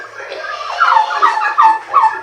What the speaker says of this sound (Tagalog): meron din tayo rito na ibinukod na pabo